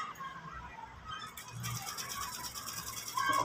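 A sewing machine stitching piping onto a boutique-style blouse: a steady close mechanical whir of rapid needle strokes that grows louder and busier partway through, with no speech.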